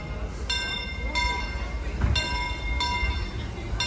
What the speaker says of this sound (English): There's the train, Fred Gurley, number 3. Favorite engine, coming in.